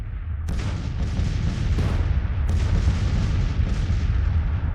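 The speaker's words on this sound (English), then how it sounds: "he's been nobbled by some enemy cannon fire somewhere" In the Civil War strategy game Grand Tactician, cannon fire booms in a continuous rumble of overlapping artillery blasts. Several sharper reports break through a dense, loud background of distant battle, with no talking.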